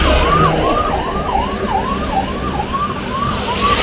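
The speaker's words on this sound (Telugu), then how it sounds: "మనకి అక్కడ అటు పక్కన అంబులెన్స్ అయితే వెళ్తుంది." An ambulance siren wails in a steady, repeating up-and-down pattern on a highway at night, loud and continuous over the rumble of road traffic.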